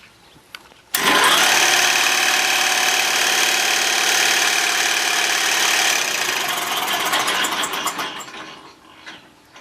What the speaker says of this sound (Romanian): pornim motorul de la intrare și vă arăt